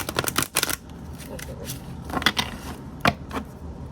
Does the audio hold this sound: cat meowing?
no